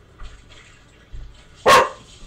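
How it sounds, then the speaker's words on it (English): A single sharp dog bark from Super Mario Sunshine rings out near the end, after a couple of soft low thumps in a quiet background. "we're gonna hear barking dog now"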